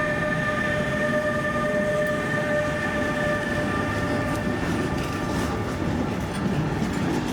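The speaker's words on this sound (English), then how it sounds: "That's the train I really want to ride" A freight train rolls through a rail yard, a loud, steady rumble with a sustained metallic squeal or whine running throughout, close by and unbroken for the full length.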